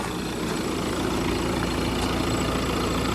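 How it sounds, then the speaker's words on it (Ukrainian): A 2015 Audi A4 B8 2.0 TDI common-rail diesel engine idling steadily after warming up, a continuous low rumble with a faint clatter, close by and unchanging throughout. "вже у нас двигун трішки прогрівся."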